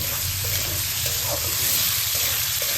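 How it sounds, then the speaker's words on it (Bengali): Potatoes fry in oil already used for frying prawns, giving a dense, continuous sizzle close to the pan that stays at an even level with no voices. "আলুগুলোকে ভেজে নিচ্ছি।"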